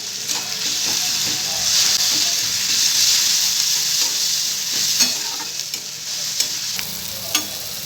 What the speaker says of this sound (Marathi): आपण हे अद्रक लसणाची पेस्ट आणि हिरवी मिरचीची पेस्ट मिक्स करायची कांद्यामध्ये